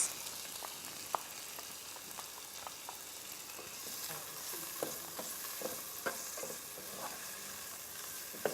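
Chopped tomatoes sizzle as they are added to onions frying in a pan for Kenyan githeri, a steady crackling fry with occasional stirring scrapes and small pops throughout, fairly close and moderately loud.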